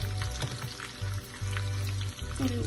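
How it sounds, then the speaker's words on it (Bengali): Ingredients for a Bengali bharta fry steadily in a pan, a close continuous sizzle with crackling and occasional stirring scrapes, loud and alone without any voices. "আমি আর একটু ভেজে নিচ্ছি"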